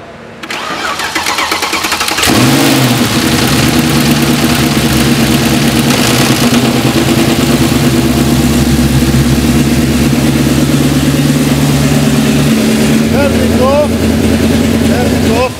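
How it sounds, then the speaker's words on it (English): A Mercedes E63 engine cranks and fires up, then settles into a loud, steady idle with a brief rev near the end, heard close up throughout. "Go inside and start the engine."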